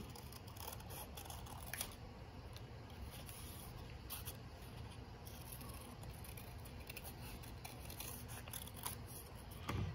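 Scissors cutting through folded paper for a St. Patrick's Day symmetrical cut-paper design, steady close snipping and rustling over a continuous low background, with no talk.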